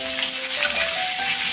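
Potato pieces fry in hot oil with turmeric in a home kitchen, making a steady, close crackling sizzle that carries on evenly throughout the short stretch.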